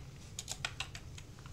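A computer keyboard and mouse used for AutoCAD drafting give a brief run of soft, quick, close clicks, about eight taps in under two seconds.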